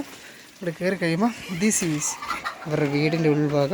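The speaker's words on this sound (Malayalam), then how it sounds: "ഓ, കോഴിയൊക്കെ കരയുന്നുണ്ടല്ലോ." Chickens cluck inside a bamboo house in a forest setting, the calls brief and partly masked by someone talking close by through most of the clip.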